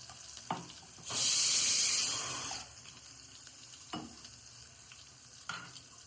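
A sudden burst of sizzling as garlic, mustard seeds and cumin hit hot oil, fading after a second or two, with soft taps and stirring clunks around it.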